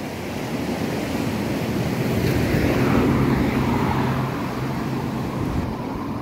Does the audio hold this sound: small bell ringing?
no